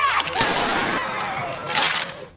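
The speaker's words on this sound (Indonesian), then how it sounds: "para staf langsung menembakkan pistol peringatan, yang membuat para peserta panik seketika" Two sharp warning pistol shots ring out about a second and a half apart in the Squid Game film, each a loud crack with a brief echoing tail.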